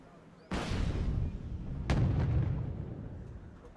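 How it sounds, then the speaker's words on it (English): A bomb from a GR5 jet striking a group of T-72 tanks in a Wargame: Red Dragon battle: a loud blast opens into a rumbling roar, followed a second later by a second explosion that stretches into sustained booming. "So GR5 coming in there, going to land a bomb onto these T-72s"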